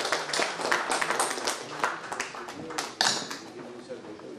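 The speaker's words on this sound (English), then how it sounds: "A big round of applause for Anupam Basu." An audience applauding at an alumni gathering on stage, steady scattered clapping at moderate loudness with some voices mixed in.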